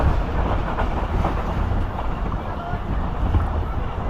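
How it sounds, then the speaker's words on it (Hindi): Passenger train on the Rehman Baba Express running at good speed at night, a steady loud broadband rumble with rattling wheel noise and some wind buffeting, with talk over it. "ट्रेन इस वक्त हमारे शिफ्ट कर रही है पडीजा रेलवे स्टेशन को और काफ़ी अच्छी स्पीड में शिफ्ट कर रही है ट्रेन"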